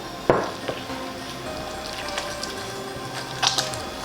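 Masa harina dough is worked by hand with added water for tacos al pastor: soft wet squishes and squelches, a few sharper clicks against the bowl, close and quiet, with no talking.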